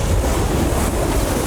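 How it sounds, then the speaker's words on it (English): Strong gusting wind roars steadily across the battlefield in the video game Totally Accurate Battle Simulator, a loud, dense rush with no voices. "It sure is windy."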